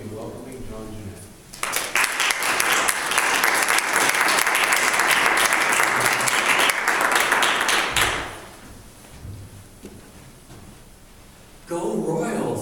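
An audience breaks into warm applause to welcome the performers, sustained clapping for about six seconds that fades out, with a voice talking before it and again after.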